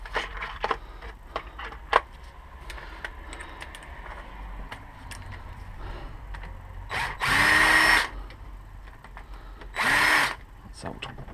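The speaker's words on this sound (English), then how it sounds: "Let's drill." A power drill spins up in two short, loud bursts on the starter motor of an Iveco Daily, with faint clicks and handling noises in between.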